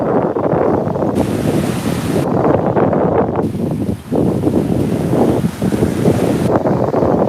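Ocean surf rolls and breaks at a beach while strong wind buffets the microphone, a loud continuous roar with surging waves throughout and no talking.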